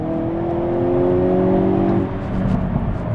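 A Hyundai Kona N's engine revs under full throttle, a loud, close, sustained tone climbing steadily in pitch for about two seconds before easing off into rougher, lower rumble.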